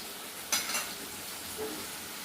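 Beans, long beans, capsicum and green chilli tipped into a pan of oats soup frying in oil, a short burst of sizzle and a stirring scrape near the start, then a faint steady fry without talk.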